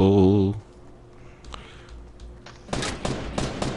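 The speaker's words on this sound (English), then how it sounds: "Getting shot at." Gunfire in the Fortnite video game: a loud voice-like burst opens, then after a quieter stretch with scattered single shots, dense rapid gunfire breaks out and runs to the end.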